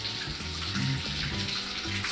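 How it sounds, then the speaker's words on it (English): Tap water runs steadily over a block being soaked, a soft continuous splashing and gurgling stream with slight fluctuations, fairly quiet and with no voices. "And then we have to wet the block for 30 seconds."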